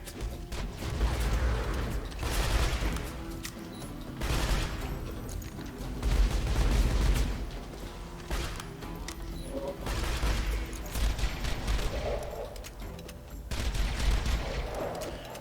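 A grenade and rapid gunfire from the video game Borderlands 2, played in a cart-guiding mission: repeated bursts of shots and explosive booms come in waves throughout, moderately loud, with no talk over them.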